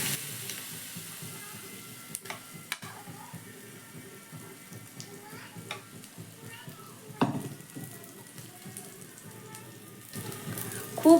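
Suji batter hits an oiled pan with black mustard seeds, giving a soft, steady frying hiss with scattered small pops and crackles, fairly faint and close.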